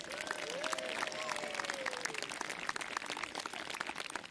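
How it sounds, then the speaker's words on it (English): Crowd applause and cheering at a Warwick Castle trebuchet demonstration, a steady dense wash of clapping lasting the whole stretch, with a few voices rising over it early on. "a big loud cheer and a round of applause"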